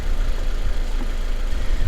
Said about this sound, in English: the engine sounds solid, man